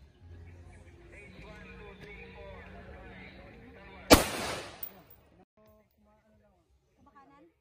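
A single sharp gunshot at a shooting range cracks out loud and close, with a short echo trailing off, following a stretch of quiet background murmur and voices giving range commands.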